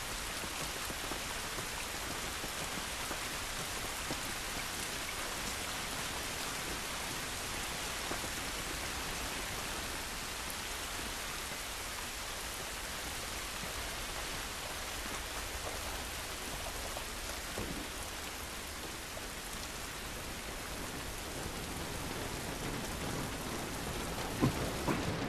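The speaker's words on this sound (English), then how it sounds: "This rain ain't gonna do us any good." Steady heavy rain pours throughout an outdoor scene in the video game The Last of Us, with thunder rumbling beneath the constant hiss and no voices heard.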